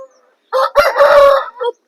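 A rooster at a Vijayawada poultry market gives one loud, close crow lasting over a second, then a short trailing note, with quiet gaps before and after.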